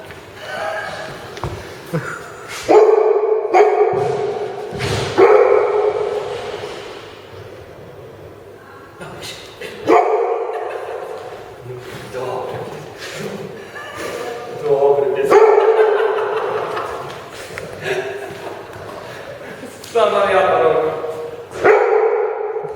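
A small dog barks and yips in repeated bursts, close and loud, with pauses and whimpering between, while voices speak at times in a home setting.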